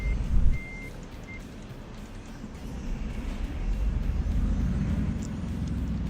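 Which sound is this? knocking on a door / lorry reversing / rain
lorry reversing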